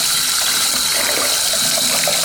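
Steady, close rush of water running into a bathtub as a detox foot mask is rinsed off, a continuous hiss with no break for the whole moment.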